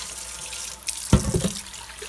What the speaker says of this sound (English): You just put soap and water in it after you get most of the goo out.